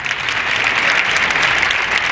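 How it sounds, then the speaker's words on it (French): Loud, dense audience applause during a New Year's Eve fashion show on television, a continuous burst of many hands clapping close up for a couple of seconds. "Sous vos applaudissements."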